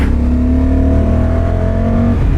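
A Honda motorcycle fitted with E-Clutch revs under throttle in third gear, producing a loud, steady engine drone with a sustained tone that holds at constant pitch for a couple of seconds, close and alone.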